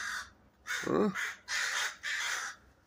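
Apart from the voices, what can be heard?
crows cawing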